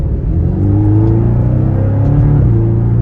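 A mid-engine Porsche four-cylinder revs up and holds a loud, close, steady drone, dipping briefly before climbing again, with no talking.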